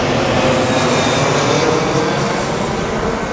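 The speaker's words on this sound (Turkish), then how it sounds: "Uçaklar tam oraya iniyor." A loud, steady roar of an airplane engine near Trabzon airport fills the clip, a broad continuous rumble with a faint whine, close overhead with no voices.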